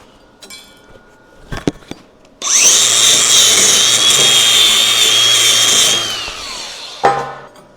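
A Sefaspe 135 welder run at its maximum 135 setting lays a bead, making a steady loud buzzing crackle that lasts about three and a half seconds. A few knocks and clanks come before and after it.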